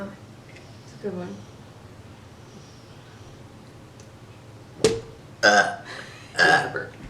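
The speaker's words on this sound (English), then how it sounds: "That's a burp." A person burps after drinking sodas and soft drinks: one short burp, then a loud sharp belch and two more drawn-out gurgling burps close to the microphone, separated by quiet pauses.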